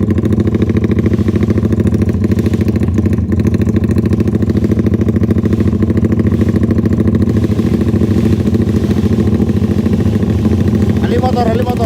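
Drag bike motorcycle engine running steadily, a loud, close, buzzing drone with constant pitch throughout, with voices faintly beneath.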